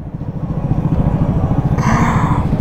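A Vespa 300 scooter rides through busy downtown Las Vegas traffic, its engine a steady close, loud drone with pulsing low rumble, and a brighter rising whine joins near the end as it accelerates.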